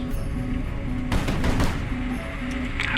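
Warship in HighFleet firing armor-piercing rounds: a loud burst of heavy shots around the middle of the clip, set over steady droning engine hum and a repeating electronic tone, with no voices.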